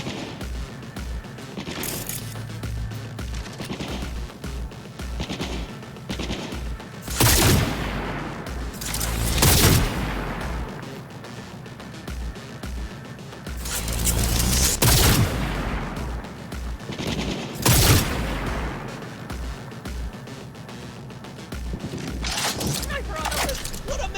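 Gunfire in the game Cyberpunk 2077, with repeated bursts of rapid shots and heavier booming blasts scattered across a long stretch of combat, loud and close, with someone talking over parts of it.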